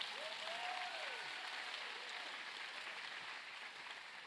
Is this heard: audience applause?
yes